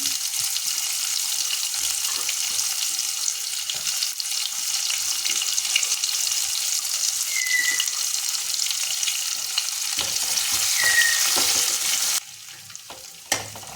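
Chopped onions sizzle loudly and continuously in hot oil in a pan, a bright crackling hiss with occasional stirring and brief high squeaks, easing off near the end.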